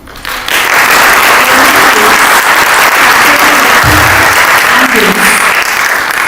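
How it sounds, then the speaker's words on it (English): Applause from the audience at a spiritual book launch event with live music and meditation, a loud, sustained wash of clapping that begins after a brief moment and continues steadily throughout, with faint voices mixed in. "let's give a round of applause to our fantastic musicians again"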